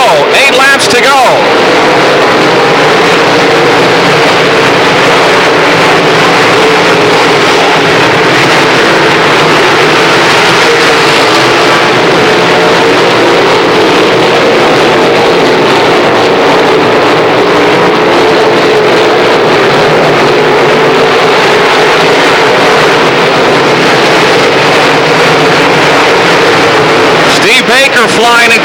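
Late model race cars roar around a dirt oval during a 1996 feature race, a steady, dense engine drone lasting throughout beneath an announcer's continuous commentary.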